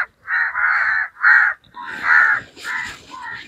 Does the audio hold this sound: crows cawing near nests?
yes